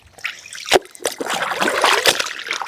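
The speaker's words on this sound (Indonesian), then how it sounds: "Gara-gara nyuci di sungai." Clothes are washed in a village river, with irregular splashes and sloshing water, a few sharper slaps among a continuous close wet trickle.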